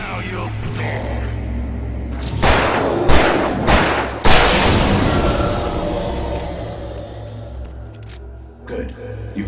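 Gunshots in Alan Wake Remastered, a few loud sharp blasts in quick succession followed by a long rumbling decay over a low ambient drone.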